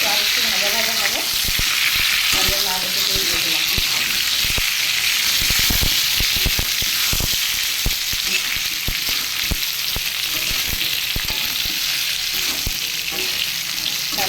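Loud, steady sizzling of poa fish with tomato frying in hot oil fills the whole clip, broken by sharp scraping and stirring clicks.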